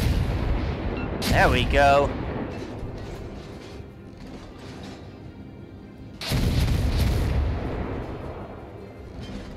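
Naval gunboat artillery in World of Warships fires two heavy booming salvos several seconds apart, each with a rumbling decay, over a low background rumble; someone speaks briefly.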